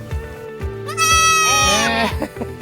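A female goat bleats several times while being fed, loud wavering cries close by, with a short steady call and low rhythmic chewing or thumping underneath.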